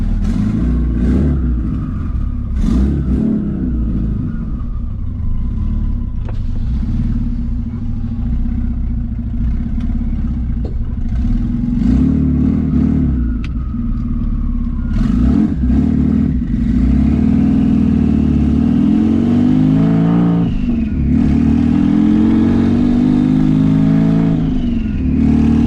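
A twin-turbo Subaru STi engine revs hard through the gears, loud and close, with rising and falling pitch sweeps on each pull and brief dips between shifts, no talking over it.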